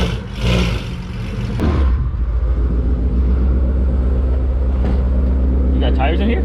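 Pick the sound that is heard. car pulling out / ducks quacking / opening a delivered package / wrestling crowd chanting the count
car pulling out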